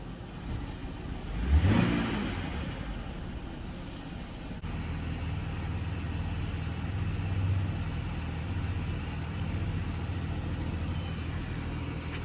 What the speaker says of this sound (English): just put your foot on the brake and then just slowly press the accelerator pedal.